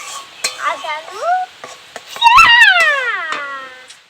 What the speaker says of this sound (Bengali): তো তেঁতুলটাকে এইভাবে বারবার নাড়াচাড়া করতে হবে এবং এটাকে একদম কিন্তু ঘন বানিয়ে নিতে হবে।